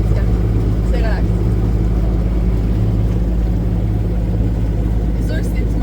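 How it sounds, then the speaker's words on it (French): A small motor drives a boat through quiet canals near the Chesapeake, with a loud, steady low engine drone and hum running unbroken throughout while people talk over it. "C'est sûr que c'est des petits moteurs"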